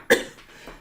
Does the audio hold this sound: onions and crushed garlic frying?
no